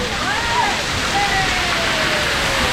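Water spraying at an amusement park splash pad, a constant loud hiss and splatter of falling water, with faint voices and high cries mixed in.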